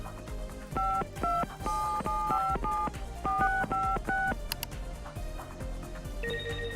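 A phone number is dialed inside the Nancy Drew game Shadow at the Water's Edge: a quick run of about a dozen touch-tone beeps in uneven groups over a quiet background, ending with a short electronic tone.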